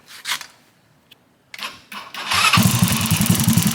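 A small motorcycle engine with a newly installed Ban Jing CDI and coil combo, a few cranking attempts and clicks, then it catches and settles into a loud, rapid, even idle right up close.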